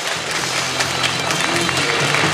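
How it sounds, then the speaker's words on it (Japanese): Steady applause from a stage audience at a Japanese car talk event on the R35 GT-R and new Z, continuous and fairly loud, with a low hum running under the clapping. "大きな拍手をお願いいたします"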